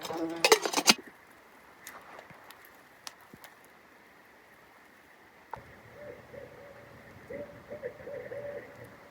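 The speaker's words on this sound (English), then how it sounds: "There's an owl over there. I love owls. I can hear it." A brief clatter opens at a campsite, then quiet night air; later, a series of low, soft barred owl hoots sound in the distance.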